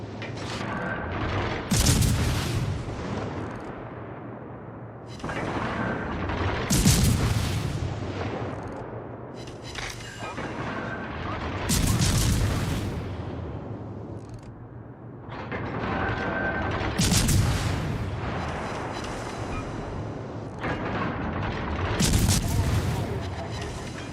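Naval guns fire in a World of Warships Legends battle, with heavy booming salvos every five seconds or so, each trailing off into rumble, under steady game sound and some talk.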